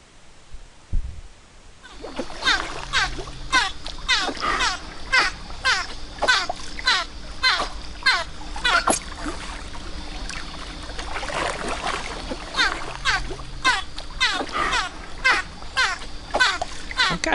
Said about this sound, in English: dolphins communicate in several ways. Clicks, squeaks, whistles, slapping their tails on the surface of the water